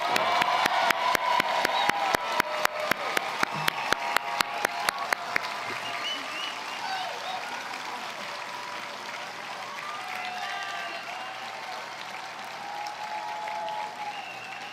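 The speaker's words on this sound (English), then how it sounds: "Let's give them one more round of applause." Sustained applause from a crowd of attendees at a dental school white coat ceremony, starting with loud, sharp individual claps that give way to a steady, dense wash of clapping with faint cheering mixed in.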